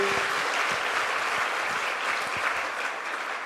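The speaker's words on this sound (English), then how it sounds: "Let's give him a round of applause." Crowd applause at a ribbon-cutting ceremony for a new tech campus, steady broadband clapping from a sizable outdoor audience, fairly distant and even throughout.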